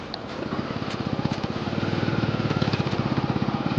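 A motorcycle engine thumps in a fast, regular pulse while being ridden over harvested farm fields in rural Rajasthan, loud and close, the revs rising slightly and holding steady as it bumps along.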